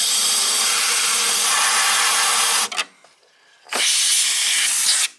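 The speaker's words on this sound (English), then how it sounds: "we'll just circulate air through. Maybe with uh, compressed air" Compressed air blasts loudly through a BMW headlight housing with water intrusion, a steady broadband hiss for nearly three seconds, then a short pause and a second strong blast.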